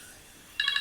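A mobile phone rings in the last part, with a bright, repeating electronic ringtone that sets in sharply after a quiet room tone and sounds fairly close.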